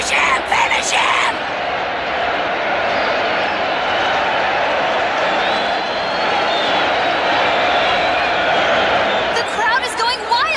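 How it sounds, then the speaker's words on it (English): A tournament arena crowd roars wildly at the Dark Tournament, a sustained loud wall of cheering and yelling with a few shouted voices at the start and end. "The crowd is going wild here"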